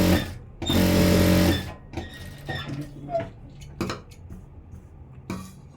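Domestic sewing machine stitching along a folded blouse edge, one loud close whirring run of rapid needle strokes, then quieter handling clicks and small taps.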